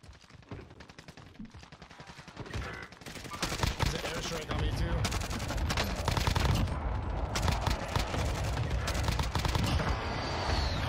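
Rapid automatic gunfire from a Call of Duty Warzone match, dense bursts that grow louder and continuous in the second half, with a voice talking underneath.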